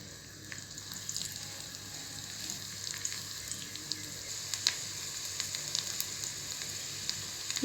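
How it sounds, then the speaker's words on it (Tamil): Garlic fries in hot oil for a restaurant-style creamy mushroom soup, a steady close crackling sizzle with tiny pops throughout and no talking. "இப்போ எண்ணெய் சூடானதுக்கப்புறமா நான் இப்போ பூண்டு ஆட் பண்ணிக்க போகிறேன். பூண்டு நல்லா பொரிஞ்சு வரட்டும்."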